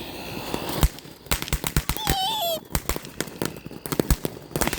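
Fireworks and firecrackers going off outdoors, a rapid scatter of sharp crackling pops and bangs throughout, with a brief rising whistle midway and talk around it.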